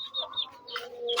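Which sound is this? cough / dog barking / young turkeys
young turkeys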